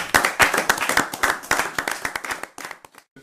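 Audience applause at a church deliverance testimony service, dense rapid clapping from many hands that rises and holds, then thins out and fades near the end.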